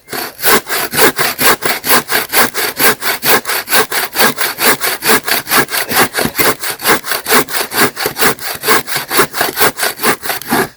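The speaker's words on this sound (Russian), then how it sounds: "Ну, уже половина ствола. Половина. Очень мощная пила." A powerful hand saw cuts through a tree trunk about halfway, a loud, steady back-and-forth rasp of wood sawing with even strokes repeating roughly every third of a second, close and continuous, with no talking.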